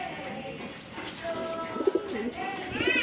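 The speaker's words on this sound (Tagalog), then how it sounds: "ang kaganda po talaga ng kalapati dito" Pigeons coo in short low bursts amid a busy, chirpy background, with a couple of louder coos near the end.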